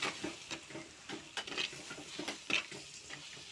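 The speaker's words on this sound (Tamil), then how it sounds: "இப்போ இதையும் நல்லா கிண்டிக்கலாம்." Sangara fish curry with chilli powder being stirred in a pot, heard as faint, soft scraping and light clinks of a spoon against the pot in an irregular rhythm over a gentle background sizzle.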